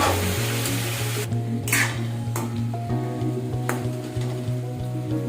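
Peas and capsicum sizzling and being stirred in a hot pan with a little oil, steady frying hiss broken by a few scraping strokes and light clinks of the utensil against the pan, close and continuous.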